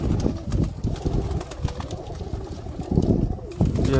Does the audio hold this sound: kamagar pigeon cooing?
yes